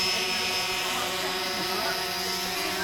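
A camera drone hovering and flying over a village; a continuous buzzing rotor drone holds steady throughout, with faint voices in the background.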